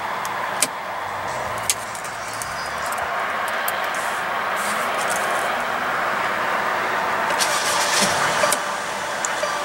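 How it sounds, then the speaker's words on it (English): A 2016 Mercedes-Benz GLC300 with a 2.0-liter turbocharged four-cylinder engine starts and settles into a steady, fairly loud idle, with a few sharp clicks heard over the engine hum and no talking. "what you're hearing there is a 2-liter turbocharged 4-cylinder engine"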